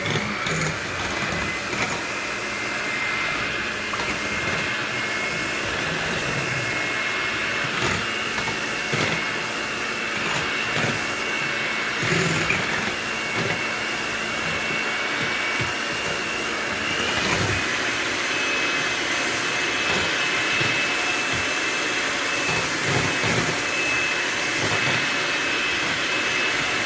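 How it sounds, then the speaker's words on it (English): An electric whisk beats batter for keto three-cheese spinach fritters. Its steady, whining motor hum runs continuously and loudly throughout, with slight shifts in pitch and some rattling as the beaters move through the bowl. "using an electric whisker just makes it so much better"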